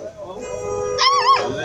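A dog at a busy Friday street market in cold winter weather gives a short, rising whine or yip partway through, heard close against crowd chatter and people talking nearby.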